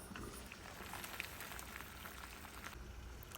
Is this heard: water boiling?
yes